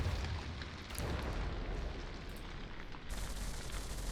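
Naval shells and explosions in a warship video game battle, a continuous dense rumbling roar of distant blasts with a heavier burst near the end, no voices.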